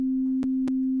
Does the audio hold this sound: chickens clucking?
no